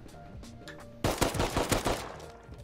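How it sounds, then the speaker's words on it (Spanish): Automatic gunfire from bots in the survival game Rust, a loud burst of rapid shots starting suddenly after a quiet stretch and continuing in a rattling volley for over a second before fading. "ese bot que disparé ahora no tiene por dónde dispararme"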